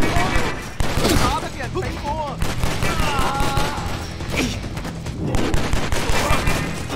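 Rapid gunfire in the Stranglehold video game rattles in dense, continuous bursts of loud, close shots mixed with crashes, while a voice talks over the shooting.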